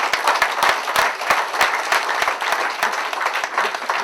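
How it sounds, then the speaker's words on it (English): Enthusiastic audience applause for fraternity brothers at an Omega Psi Phi chapter anniversary celebration: dense, steady clapping from a sizable crowd, with sharp individual claps standing out throughout. "Let's give all these brothers a round of applause."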